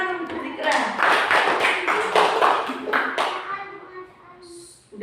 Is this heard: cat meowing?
no